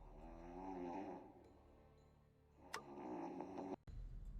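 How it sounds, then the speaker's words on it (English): The General snoring in the Emerald City Confidential video game, a slow, low rumbling snore that swells and fades twice, faint and alone, with a light click near the end. "The General sure can snore."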